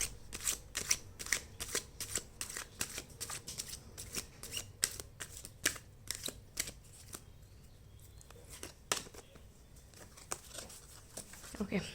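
A deck of tarot cards is shuffled in a rapid series of crisp riffling snaps and soft slaps, steady and close up, with quieter rustling near the end.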